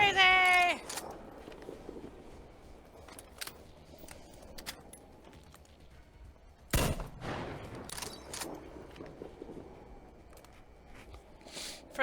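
Gunfire aimed at a creature in the shooter Metro Exodus, heard as a handful of scattered sharp shots, one of them loud, set over a low rumbling game backdrop with sporadic clatter.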